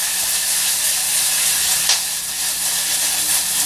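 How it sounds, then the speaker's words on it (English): Spiced chickpeas sizzle in a stainless steel pan with a constant, close, loud hiss that holds steady and never lets up. "Listen with your ears so you can hear the sizzle that's happening in your pan."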